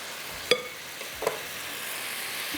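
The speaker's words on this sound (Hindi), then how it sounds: "यहाँ पर चिकन को भी देख लेते हैं, ये बड़ा अच्छा सा फ्राई हो रहा है" Chicken fries slowly in a pan over low heat with a soft, steady sizzle and two small clinks or stirs, quiet and without talk.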